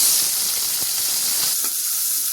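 Onion and two green chillies fry in oil with cloves, cardamom, peppercorns, cinnamon and bay leaf for mint pulao, making a steady, bright close sizzle with a few soft stirring knocks.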